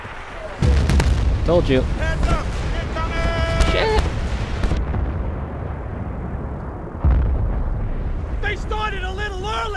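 Artillery shells boom and burst around a burning village in the video game Battlefield: Bad Company 2, with heavy explosions at the start and again midway, while characters shout over the barrage.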